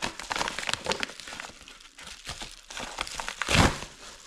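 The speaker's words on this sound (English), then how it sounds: "I just use my hands to open it." A package is torn and crinkled open by hand, with close, loud bursts of crumpling plastic and paper, rustling in uneven rhythm and a sharp rip near the end.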